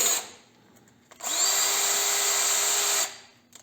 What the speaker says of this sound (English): Next is get a 1/4 inch bit, a 1/4 inch bit,